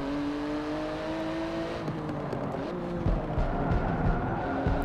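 A Porsche race car in Forza 7 drives with a steady engine drone, and tire noise and scrubbing build in the second half.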